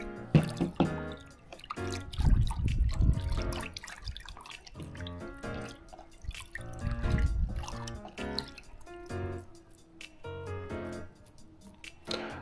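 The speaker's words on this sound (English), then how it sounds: "let me put some dishwashing liquid in, just a really tiny amount, that'll be enough" Dishwashing liquid goes into water in a gold-panning pan, producing soft drips, splashes and liquid sloshing up close, with irregular trickles and small squishy movements throughout.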